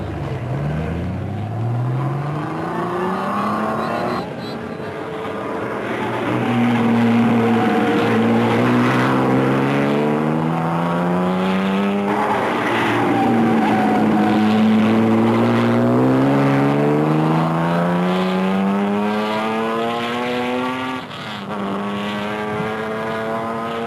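Race cars at the 1955 Le Mans 24-hour race, Jaguars, Astons and a Porsche, roaring past one after another, engines rising and falling in pitch with strong pass-by sweeps, loud and close over a continuous motor drone.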